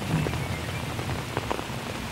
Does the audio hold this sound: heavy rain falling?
yes